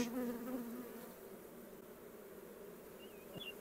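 Honey bees buzz around a humming hive, a steady close droning hum with a queen bee nearby, fairly faint and continuous, with a brief higher whine near the end.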